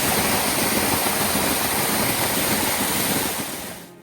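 Water rushing through the wooden channel of a gharat, a traditional water-powered grain mill, at low flow; a steady, loud, broadband roar close by with no voices, fading slightly near the end.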